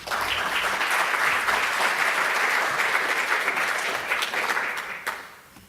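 An audience at a talks event applauds a speaker being welcomed on stage, a dense steady round of clapping that tapers off near the end.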